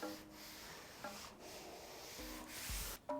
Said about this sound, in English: sand the panel with the machine again